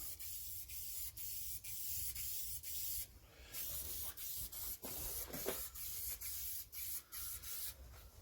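Aerosol spray paint hissing in short bursts onto the orange side repeater lens of a Jaguar XK8, close and fairly quiet, with several sprays separated by brief pauses.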